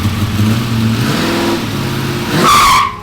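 A Dodge Durango Hellcat spins its tires in reverse, engine roaring close and loud as the tires squeal, the revving climbing to a sharp peak near the end before cutting off.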